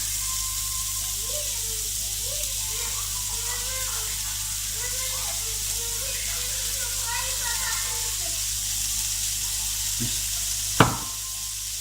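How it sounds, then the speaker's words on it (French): Rice frying in a pan, stirred gently, gives a continuous even sizzle with faint scraping. A voice talks over it, and a sharp knock sounds near the end. "Voilà, on met le riz, on remue gentiment."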